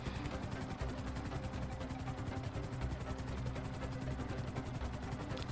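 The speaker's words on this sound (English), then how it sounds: "let's take a ride on Michael's helicopter" A helicopter flying in Grand Theft Auto V, its rotor producing a steady rapid chop over a low engine drone, continuous and fairly close throughout with no talking.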